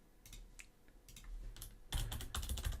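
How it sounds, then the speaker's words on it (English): Keystrokes on a computer keyboard during text entry in embroidery design software, starting as scattered taps and turning into a denser, louder burst of close-up typing with no voices. "type some text"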